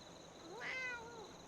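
A single clear cat meow rises and falls in a Fallout 4 settlement room; it is fairly faint and heard alone.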